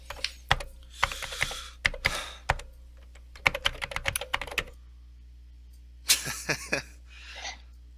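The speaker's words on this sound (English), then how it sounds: "I saw you typing away, Tyler." Someone types on a computer keyboard nearby in irregular bursts of crisp key clicks separated by short pauses, with a quiet background hum.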